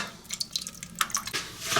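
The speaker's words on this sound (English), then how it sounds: "So I'm going to remove this to get water out." Water trickling and dripping out of a Glacier Bay toilet tank during a fill valve repair, close irregular splashes and drips with no talking.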